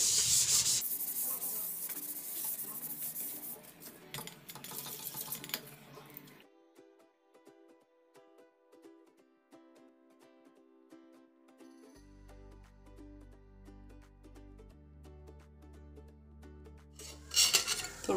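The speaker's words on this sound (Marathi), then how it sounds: "थोडंसं तेल घालून आपण तवा स्वच्छ करून घेऊया." A tawa griddle is wiped clean with a little oil while dudhi bhopla dhirde batter is being made: close, steady rubbing and scraping for about six seconds, then near silence with faint tones.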